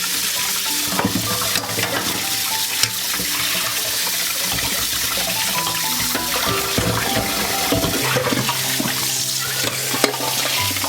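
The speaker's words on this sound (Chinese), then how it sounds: "打开凉水冲洗掉浮沫" Cold tap water runs to rinse the scum off blanched pork ribs, a continuous close rush and splash with occasional clatter of the ribs being moved about.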